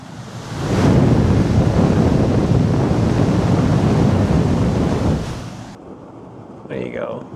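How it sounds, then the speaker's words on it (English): Rushing air roars from a volcanic blowhole near Sunset Crater, a loud steady gust close to the microphone that then drops away to quieter wind. "Try to get you guys close with the mic to hear this blowhole."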